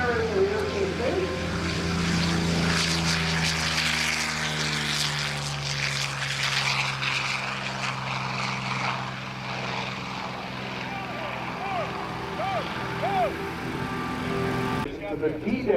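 A P-40N Warhawk warplane runs its propeller engine at an airshow, a loud steady drone throughout with a shifting pitch as it passes, while an announcer and a crowd talk over it.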